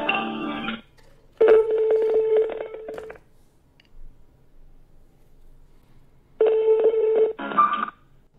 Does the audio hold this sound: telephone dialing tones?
yes